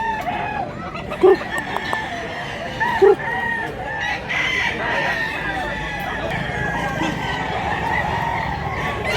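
A big rooster, about two years old, crows amid a busy outdoor fowl market, its calls rising over steady crowd chatter and clucking from other birds, with a couple of short sharp bursts early on.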